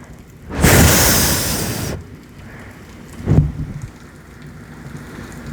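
Heavy rain roars in as a dense wash for over a second, then cuts out, followed by a single low rumble of thunder against a quiet background.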